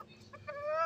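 A native hen gives a short cluck that rises into a drawn-out tonal call, fairly quiet and brief.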